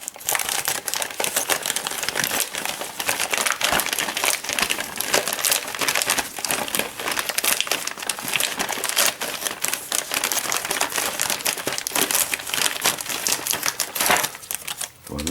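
Packaged parts from an Ecto-1 1/8 Eaglemoss model kit being unwrapped, with continuous close crinkling and crumpling of plastic wrapping, dense rustles and small clicks throughout, no talking.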